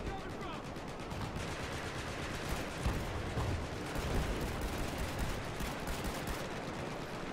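Gunfire in Battlefield 4 during a Conquest match, rapid bursts of shots and distant explosions crackling over a dense battle din, fairly quiet overall.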